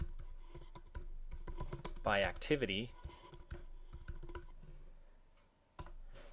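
Rapid clicking keystrokes on a computer keyboard, close and moderately quiet, with a short spoken phrase partway through and a louder key press near the end.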